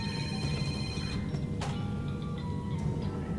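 A mobile phone ringing during a Dead Space 2 gaming session, a bright electronic ringtone tone over game background sound, stopping partway through.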